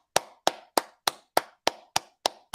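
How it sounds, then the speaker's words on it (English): Clapping on a sports talk show: nine sharp, close hand claps in an even, brisk rhythm, each crisp and isolated, with silence between them. "give yourselves a clap."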